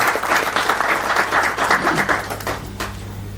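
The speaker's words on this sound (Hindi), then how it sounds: "मैं चाहूंगा कि एक बार पूरी टीम के लिए आप एक तालियों से इनका स्वागत करें।" A hall audience at a Kolkata fan and electric dealers association event applauds the team, a dense burst of many hands clapping that swells and then thins toward the end, loud and near.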